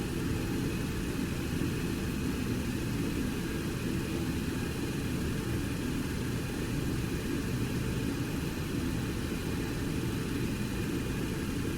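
The cockpit of a Boeing 727 in a flight simulator game fills with steady, moderate engine and airflow rumble, a constant broadband drone with faint tonal hum and no voices.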